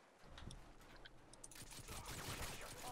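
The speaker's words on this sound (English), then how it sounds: "She's shooting me in the back!" Rapid bursts of gunfire from the video game Modern Warfare 2 in a Spec Ops mission, crackling continuously at moderate level with a dense, busier volley in the second half and no talk over it.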